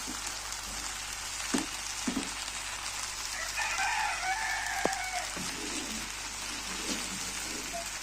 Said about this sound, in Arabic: قالت لك خالتي غادي ديرها في البصله باش تشحر معاها.